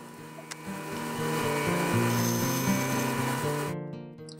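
A steady mechanical whine with a cutting rasp as a blade runs through wood for several seconds, then the cut ends and the motor fades.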